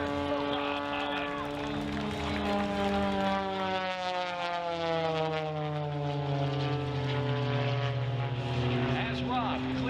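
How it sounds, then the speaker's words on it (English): An aerobatic propeller airplane at the 2021 Great State of Maine Airshow, slowed almost to a hover, drones loudly and continuously, its pitch sliding slowly up and down throughout. "He has slowed this aircraft down and turned it into a helicopter, showcasing to you that 1-to-1 thrust ratio"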